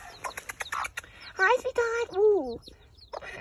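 Small unfamiliar birds give a run of short chirps and warbling, rising calls nearby, while a person speaks softly over them.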